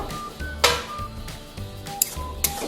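Maggi noodles with vegetables are stirred in a pan, giving a few sharp clinks and scrapes of a utensil over a low, steady sizzle.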